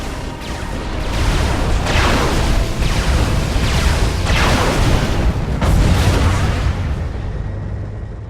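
Artillery fire booms repeatedly across a Supreme Commander Forged Alliance battle, several loud, broad blasts every second or so over a continuous roar of battle noise, with no voices.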